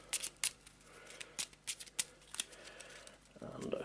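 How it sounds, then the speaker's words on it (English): A deck of Arkham Horror game cards is riffled in a run of quick, close, crisp shuffles with brief pauses between them, soft at low volume. "Quick shuffle."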